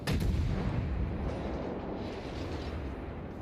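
Naval guns of the USS Cleveland cruiser firing in World of Warships, a loud booming blast at the start followed by a sustained rumbling, rolling roar of continuous gunfire with no speech.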